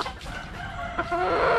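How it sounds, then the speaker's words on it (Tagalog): Kelso-line hens clucking close by, a loose run of throaty calls that swells toward the end, with no talking. "Ito yung inahin"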